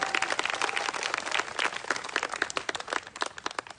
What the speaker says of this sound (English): wonderful young people a round of applause